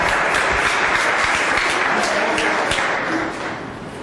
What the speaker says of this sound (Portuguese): Merece um aplauso, merece um aplauso.